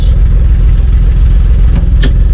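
A 1955 Plymouth Plaza's engine, freed after being locked up for 42 years, runs loudly and steadily on its first drive, with a rough low chug and a brief sharp clack near the end.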